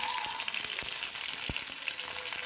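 Ginger garlic paste sautés in coconut oil with mustard seeds and curry leaves in a pan, a continuous close sizzle broken by a few sharp spatula taps.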